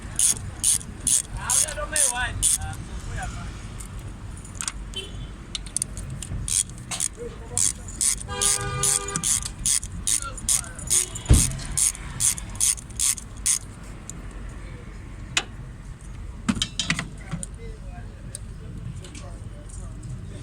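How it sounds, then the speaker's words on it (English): Ratchet clicking as a 10 mm socket loosens a spark plug on a Fiat 500, repeated bursts of close, sharp clicks in short runs with quieter handling noise between. "you get 10 socket to take out this One"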